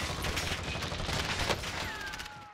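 Gunfire in Call of Duty Warzone, a continuous rattling fusillade of shots heard from mid-distance, steady and dense throughout the brief stretch.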